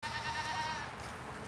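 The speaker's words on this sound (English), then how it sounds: "That's a goat." A goat bleats once, a short, fairly quiet, wavering cry heard alone at some distance outdoors.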